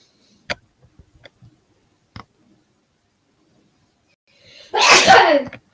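One loud, close sneeze bursts out near the end, preceded by a few faint clicks and taps in an otherwise quiet room.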